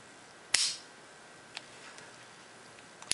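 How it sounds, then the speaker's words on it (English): The trigger of a Beretta Model 71 pistol is dry-fired, giving one sharp, close metallic snap followed by a few faint, quiet clicks. "Here's what the trigger pull looks like."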